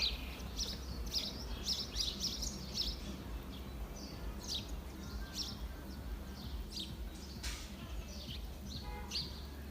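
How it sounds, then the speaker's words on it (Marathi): Faint chirping of small birds comes in scattered bursts over a low background hum, distant and continuous throughout. "चिम चिमण्यांचा किलबिलाट पण ऐकू येत असेल तुम्हाला"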